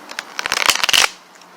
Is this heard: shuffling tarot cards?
yes